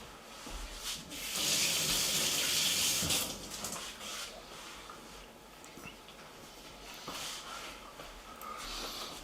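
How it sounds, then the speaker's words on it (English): Hands are washed under a running kitchen tap: a soft, steady splash and hiss of water, louder for a couple of seconds near the start and then continuing more quietly without talk. "Let me quickly wash my hands."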